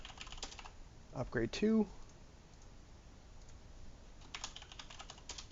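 Quick bursts of computer keyboard typing, with clicks near the start and again near the end, and a short spoken phrase in between.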